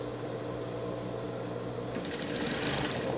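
A sewing machine runs continuously at close range, stitching a small pet jumpsuit, with a steady mechanical whir that brightens slightly toward the end.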